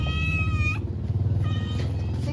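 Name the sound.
cat meowing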